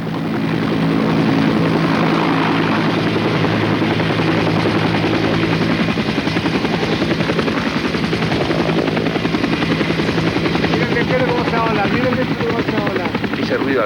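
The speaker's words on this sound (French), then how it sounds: "Ce bruit d'hélicoptère caractéristique qu'on commençait à entendre au loin" A loud, steady helicopter drone with rapid rotor thumping, continuous and close, holding throughout without a break.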